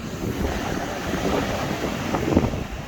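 Strong gusty wind on a Scottish beach buffets the microphone in a continuous roar, with a faint wash of surf underneath and no voices.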